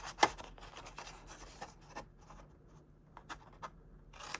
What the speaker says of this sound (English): We'll trim this piece off here.